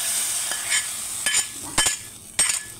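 Fried onions in coconut oil scraped and stirred into a palak dal curry, with a few soft clattering stirs and brief sizzling bursts, close and moderately quiet.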